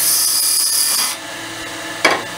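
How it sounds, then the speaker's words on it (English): Sanding by hand down to about 600 grit, a close, steady raspy scraping that fades out partway, then a short sharp rub near the end. "that's me sanding it back now to about 600 grit"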